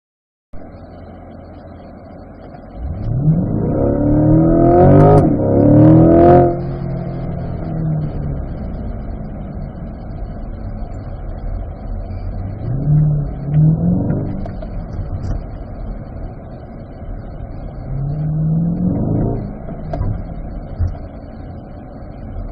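Corvettes accelerate on a small autocross course, one engine revving hard and sweeping close by, followed by two further fainter surges as cars power through the track, with no talking.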